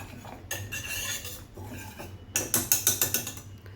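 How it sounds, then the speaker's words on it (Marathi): Cooked dal and spinach are mashed and mixed in a pot with a metal utensil, making close scraping and clattering sounds. A quick run of rhythmic knocking strokes comes near the end, and no one speaks. "जसं आपण वरण घोटतो ना, तसं ते मिक्स करून घ्यायचं."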